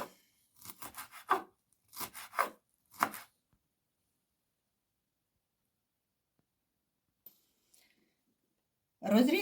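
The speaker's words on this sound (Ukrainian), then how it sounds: "Нарізую петрушку зелену." Green parsley chopped with a knife on a cutting board: three short runs of quick, rhythmic close-up strokes, then a long quiet stretch with a few faint taps and a sudden loud sound at the end.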